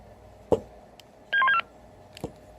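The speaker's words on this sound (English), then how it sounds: "you'll get the talk, the go-ahead tone" A short burst of electronic beeping tones from a TYT MD-380 radio's talk-permit go-ahead tone, quick stepped chirps lasting under half a second, between soft clicks and faint background hiss.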